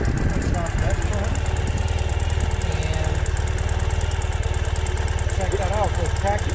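A 2015 Ural Gear Up sidecar motorcycle rolls along off pavement with its engine near idle, a steady low rhythmic thrum filling the whole clip, with faint voices audible underneath.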